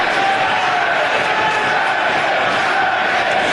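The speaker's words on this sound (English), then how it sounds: "Listen to this crowd." A wrestling arena crowd in South Philadelphia roars and cheers at a DGUSA pro wrestling match, a loud, dense, unbroken wall of noise from an audience on its feet.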